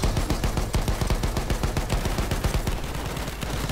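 Rapid gunfire rattles in Battlefield 1, loud bursts of automatic shots fired in a fast, continuous rhythm with no pauses.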